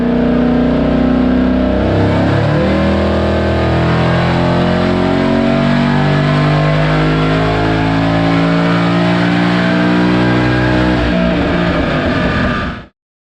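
A Whipple supercharged Mustang GT engine revs hard on a dyno, a loud, close, rising roar with supercharger whine building for about twelve seconds before cutting off abruptly.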